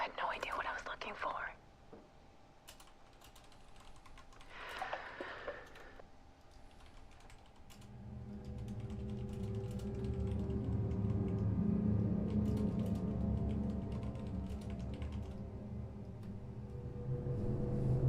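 Keystrokes on a computer keyboard tap in short bursts early on, then continue faintly under a louder, steady background of music or game sound that fills the rest of the stretch.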